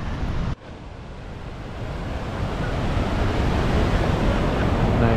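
Steady rushing water flows beneath a footbridge near the top of Nevada Fall in Yosemite, a broad continuous roar that swells slightly louder, with a brief dip near the start.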